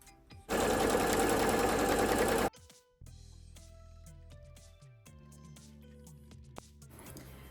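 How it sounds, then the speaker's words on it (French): A sewing machine stitches along a fabric seam allowance in a loud, rapid two-second run. Quieter mechanical whirring and clicking of the machine follow. "on peut tout simplement le faire à la machine à coudre dans la marge"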